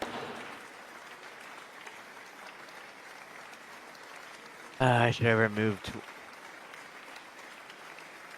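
Faint, steady clapping from a gallery during a mock State of the Union address runs quietly in the background throughout, briefly interrupted by a loud voice speaking over it.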